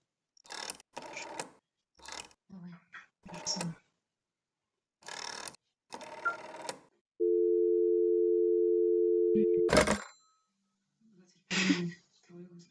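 A steady electronic phone tone in the video game That's Not My Neighbor holds for a few seconds between bursts of talk, ending with a sharp click, followed by more speech.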